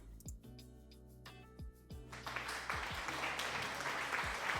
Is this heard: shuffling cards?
no